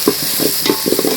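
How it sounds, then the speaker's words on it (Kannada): Tomato fries in a pan with a loud, steady sizzle close by. Short scraping stir strokes repeat at an uneven rhythm, and nobody speaks. "ಒಂದು ಟೊಮೆಟೊ ಕೊಂಚ ಹಾಕಿ ಫ್ರೈ"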